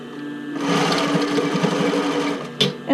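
A sewing machine stitches the top fold of a stretch-fabric sailor shirt in one continuous burst of rapid whirring, stopping with a brief clack before a faint restart at the end.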